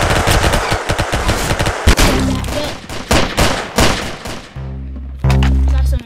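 Video game gunfire fills the stretch: loud, close bursts of rapid automatic shots with a few heavier single blasts, ending in a dense roaring volley.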